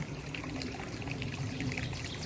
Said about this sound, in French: Là, je monte dans le petit ruisseau qui est là.